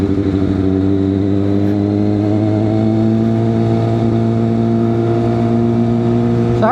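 A 2022 Kawasaki ZX6R motorcycle engine holds a steady, loud, close drone in third gear at around 6,000 RPM, with a slight rise in pitch near the end and no talking over it.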